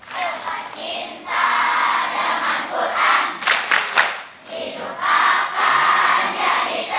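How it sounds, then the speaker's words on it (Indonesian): Children clap and shout together in a rhythmic Tepuk Cinta Quran chant, a loud, lively group sound with bursts of sharp clapping and one brief pause in the middle. "Coba teman-teman kasih tepuk cinta Quran"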